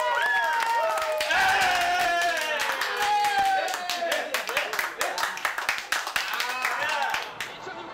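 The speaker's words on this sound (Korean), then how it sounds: "드디어 환호가 터집니다." A crowd in a bus terminal waiting room erupts in cheers and applause during an Olympic 400m freestyle final broadcast, loud excited shouts giving way to dense rhythmic clapping that tapers off near the end.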